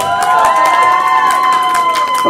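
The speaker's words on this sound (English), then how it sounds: "Another big round of applause to our remarkable designer" Loud crowd cheering for a designer at a Thai male pageant night, with whoops and shouting voices layered in a continuous roar, close and energetic.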